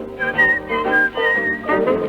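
A clear, close whistled melody from a song, bright sustained notes rising and falling in a quick tuneful phrase, alone without talk.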